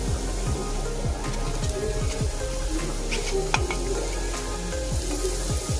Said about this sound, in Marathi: आता ही सुद्धा चांगली परतून घेऊया तेलामध्ये